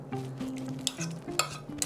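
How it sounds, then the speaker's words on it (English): A spoon mixes a pinch of onion powder and pepper into an olive oil garlic salsa with tomatoes, soft scraping strokes with a few light clinks against the bowl, close and quiet. "And mix that up."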